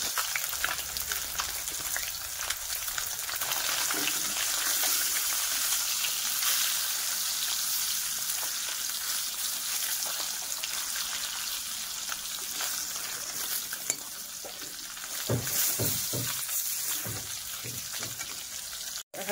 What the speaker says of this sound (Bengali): বিচির মধ্যে মশলা দিয়ে তারপর একটু ভাজা করছি।